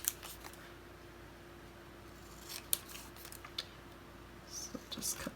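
Scissors snip through a paper card, scattered sharp close clicks and short cuts spread unevenly, with a small cluster of quicker snips toward the end over a faint steady hum.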